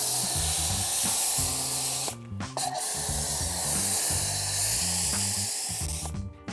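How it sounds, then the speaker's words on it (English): Continuous hissing spray of foam onto a car wheel, close and loud, pausing briefly before resuming, over a low rhythmic tonal background. "spray it, let it dwell, and then put some foam on top"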